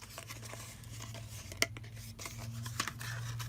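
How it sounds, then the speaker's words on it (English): Craft knife cutting a piece out of card, quiet scraping and slicing with two sharp clicks as the blade catches, close and faint against a low background hum, no talking. "If you have a craft knife, just know where your card is going to sit and just cut your piece out."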